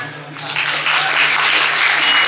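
An audience claps at a Balinese drama gong performance at a temple, dense applause swelling in after a brief tone and holding strong, close and loud.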